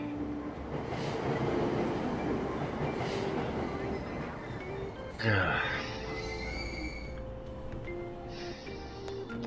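Persona 5 Royal subway train rumbling and clattering on the rails at steady volume, with a brief hiss and door sounds midway while a voice talks over it.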